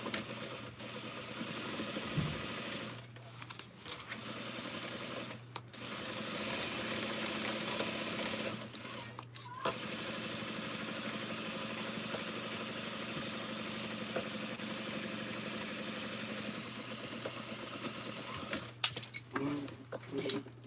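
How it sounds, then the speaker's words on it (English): A sewing machine stitches a pocket bag with a steady motor hum and rapid needle chatter, running in long stretches broken by brief pauses, with a voice faintly present. "So I'm going to sew my pocket bag."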